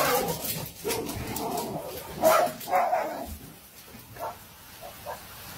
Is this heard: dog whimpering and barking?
yes